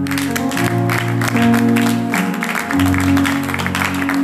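A church congregation at a sermon claps and cheers continuously over sustained music, the rhythmic clapping dense and loud throughout.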